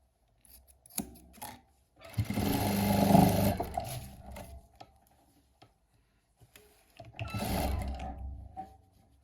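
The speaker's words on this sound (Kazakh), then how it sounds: "Осылай міне қыздар тігіп кете бересіздер." A sewing machine stitching crazy-patchwork from leftover fabric scraps, running in two loud whirring bursts of a couple of seconds each, with quiet handling noises between.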